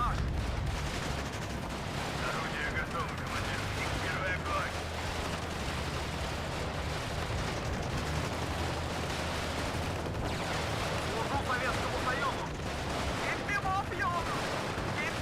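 Machine-gun fire in the war strategy game WARNO, with bursts of gunfire and heavy battle rumble thudding through a dense, continuous combat soundscape that fills the whole stretch.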